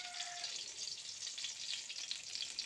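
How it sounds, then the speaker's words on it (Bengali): Eggplant slices fry in a pan, giving a soft, steady, even hiss of oil that stays fairly faint and continuous, with no talking. "এই যে বেগুন ভাজা চলছে"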